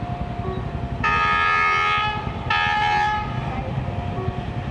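A train engine rumbles steadily nearby while its horn blasts twice, each a loud, harmonic blare lasting over a second.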